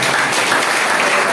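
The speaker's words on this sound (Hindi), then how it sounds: "चलिए जोरदार ताली हो जाए।" Enthusiastic audience applause at an Ayurveda brand event, a dense burst of many hands clapping close and loud for a brief moment.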